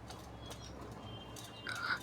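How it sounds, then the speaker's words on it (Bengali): Pigeons at a pigeon farm: a soft, steady ambient rustle with faint bird sounds, and a brief brighter chirp or coo near the end, no talking. "আমাদের প্রায় 10 জোড়ার মতো কবুতর আছে"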